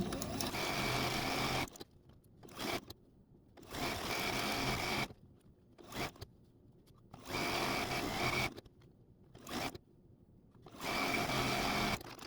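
A home sewing machine stitches a long row of a large quilt top in several steady whirring bursts of a few seconds each, separated by short pauses and quiet handling.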